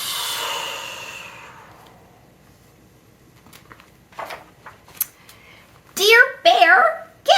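Children join in mimicking a big snore, giving a long breathy exhaling rasp, then scattered small breaths and a couple of louder vocal bursts that sound like kids' voices near the end.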